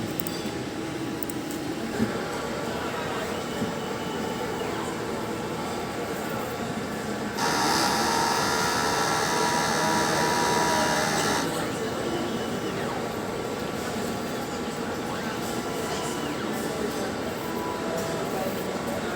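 A DTF printer runs a head-cleaning cycle, a steady mechanical whir with a louder pumping burst of several seconds in the middle, then settling back to a low machine hum; no one speaks.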